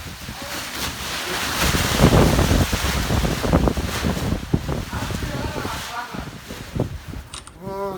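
Wind gusting across the microphone outdoors on a chilly, blustery March day, a constant broadband roar rising and falling with bursts of buffeting, loud and close throughout.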